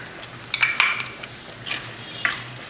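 A utensil stirs and scrapes prawns around a pan in a few strokes over a steady, gentle sizzle, close and without talk.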